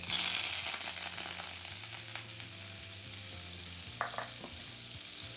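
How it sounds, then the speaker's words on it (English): Six tablespoons of butter melt in a frying pan with a continuous hissing sizzle, steady and close, plus a couple of brief knocks of a utensil against the pan and a faint low hum underneath. "next we are going to melt 6 tablespoons of butter in our pan"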